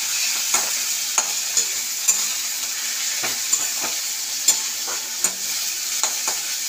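Onion paste frying with whole garam masala for an egg curry, a steady close sizzle broken by repeated sharp scrapes of a spoon stirring the pan.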